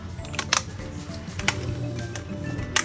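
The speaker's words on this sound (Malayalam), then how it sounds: "കത്രികക്കാണ് ഇതേപോലെ നുറുക്കിയെടുക്കുന്നത്." Kitchen scissors snip through pieces of mud crab, giving a handful of sharp, close clicks and crunches spaced irregularly over a low background hum.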